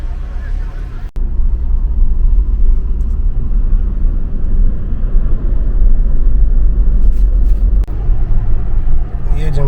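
A Mitsubishi L200 pickup loaded with a tonne of cargo strains uphill toward the mountains. Its engine makes a loud, steady low drone inside the cab with a continuous deep rumble, and someone talks over it.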